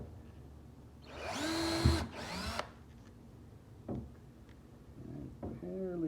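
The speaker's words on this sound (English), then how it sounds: "So then you can just drill from the back to the front." A power drill whines in two short bursts, drilling from back to front through a leather fire helmet shield, briefly spinning up and stopping, followed by quieter handling clicks and scrapes.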